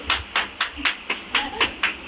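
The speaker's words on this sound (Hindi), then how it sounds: "ताली बज जाए।" Congregation in a Thursday church service claps hands in a steady rhythm of about eight sharp claps, crisp and fairly close, with faint voices underneath.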